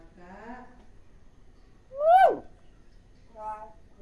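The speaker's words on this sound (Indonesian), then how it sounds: "ini burung beo yang Cina" A caged hill myna gives three separate tonal, whistle-like calls spaced over a few seconds; the middle call is the loudest and sweeps sharply, and the last one is softer, in a quiet outdoor morning setting.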